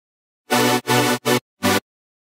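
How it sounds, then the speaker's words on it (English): Future bass synth chord made in Serum, played as four loud, bright, buzzy stabs, the first two longer and the last two shorter, separated by brief gaps and followed by silence; no talking. "It's very generic sound for future bass type of track."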